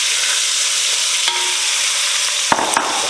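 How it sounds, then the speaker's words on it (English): One medium-chopped onion lightly frying in a pan for Durban curry, a dense, steady sizzle close by, with a couple of brief scrapes and clinks from stirring near the end. "We're going to add approximately 1 onion, chopped, sort of medium, not finely chopped. And we're just going to lightly fry that"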